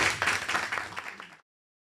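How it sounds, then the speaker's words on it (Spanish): An audience at an academic colloquium claps in a short burst of applause that stays fairly close and dense before stopping abruptly after about a second and a half. "Un aplauso."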